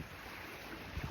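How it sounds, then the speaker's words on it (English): Lake waves gently washing against shoreline rocks at a camping spot by a lake in Karlskoga, a soft continuous rushing with faint wind and a slightly stronger surge at the end. "You can hear the waves gently crash against the rocks here."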